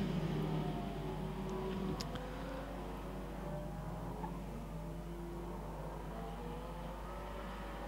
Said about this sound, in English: here's the Hyundai Super Tourer